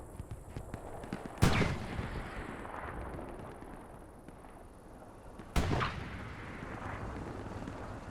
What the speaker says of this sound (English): There's just so many rockets flying back and forth.